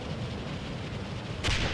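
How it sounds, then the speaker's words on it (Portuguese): Rocket launcher explosions in the Far Cry 4 video game, heard as continuous low rumbling battle noise with a louder blast bursting in near the end, no speech over it. "Ó, estão atirando com bombas."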